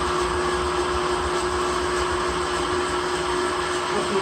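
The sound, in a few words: mixer with whisk attachment whipping meringue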